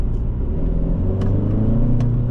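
A 2026 Hyundai Sonata N-Line accelerates hard, with a deep, steady engine rumble and road roar from inside the cabin, rising gradually with a couple of faint clicks.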